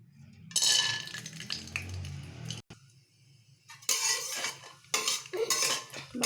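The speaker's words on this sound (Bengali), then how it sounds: "প্রথমে আমি বাদামটাকে ভেজে নেব।" Peanuts are fried in hot oil in a kadai while a spatula stirs them, making bursts of scraping and clinking metal sounds with a short quiet gap in the middle.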